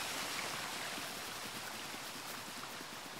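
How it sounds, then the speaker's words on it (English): A waterfall in the Super Mario Odyssey video game pours as a steady, dense broadband rush, fairly loud and unbroken throughout, with no talking. "Ah, nice waterfall."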